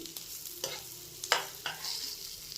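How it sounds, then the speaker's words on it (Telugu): Fish fry coated in masala sizzles in a pan, with several sharp scraping clatters as the pieces are flipped and stirred, close and fairly quiet. "ఒకసారి తిరగేసేసుకుంటండి, మసాలాలన్నీ వేగుతాయి కూడా."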